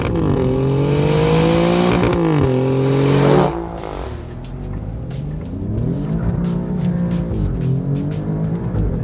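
A 2024 Alfa Romeo Giulia Quadrifoglio engine revs up in loud rising sweeps through the gears of its ZF transmission, then settles into a lower, steady drone.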